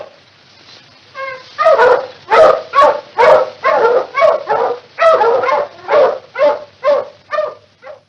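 Several dogs bark loudly and repeatedly in a steady rhythm, close by, with a brief yip or whine at the start.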